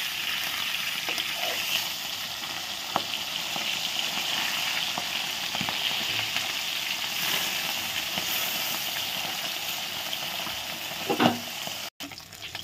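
Pabda fish, just flipped, fry in hot oil with a continuous close sizzle and scattered crackles and pops, including a brief louder burst near the end; no voices are present.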